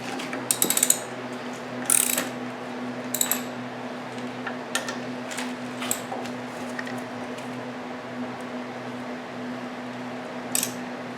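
Ratchet wrench clicking in short bursts as the six clutch cover (pressure plate) bolts are loosened on a 1960s vintage VW buggy, close and crisp with pauses between turns over a steady low hum.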